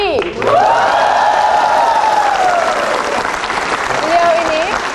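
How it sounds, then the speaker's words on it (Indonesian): Studio audience applause at a television talk show, a dense, steady wash of clapping that fills the whole stretch, with a loud tonal musical or vocal swell riding on top and a brief tone near the end. "boleh kita minta tepuk tangan yang paling meriah untuk AA kesayangan pemirsa, AA Effendi Ghaz"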